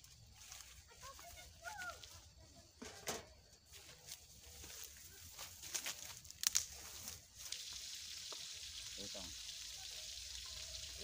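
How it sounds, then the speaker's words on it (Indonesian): Seasoned hairtail fish fries in hot oil, a faint steady sizzle with scattered crackles and clatter that swells louder toward the end, with voices heard briefly. "saya goreng dulu soalnya anak-anak sudah menunggu saya"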